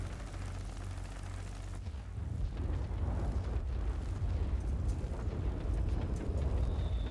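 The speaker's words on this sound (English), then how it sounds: "Let's see what these bombs can do here." Bombs exploding in World of Warplanes, a continuous rumbling roar of blasts with deep booming low end that shifts in character partway through and carries on steadily.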